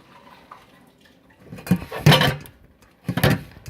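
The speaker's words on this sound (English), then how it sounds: "I'm just pouring this into another pan." Hot cooking oil poured from one pan into another on a stove after cooking pork tenderloins, heard as a couple of short liquid splashing and sizzling bursts with metallic pan contact, fairly close and without talk.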